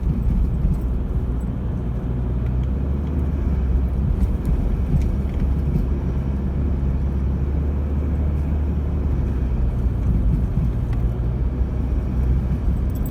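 4WD vehicles, including a Toyota 300 series, push through soft, coarse sand dunes with a continuous low engine drone and rumble, steady and loud from start to end.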